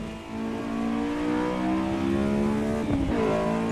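A race car engine from the Assetto Corsa EVO racing game drones loud and close, its revs holding and rising steadily with layered harmonic whine, briefly dipping near the end before climbing again.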